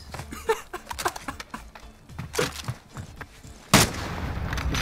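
Gunfire in a 1v1 video game match sounds as a series of sharp, loud shots and bursts that pop repeatedly across the clip, with a heavier blast near the end and a noisy tail.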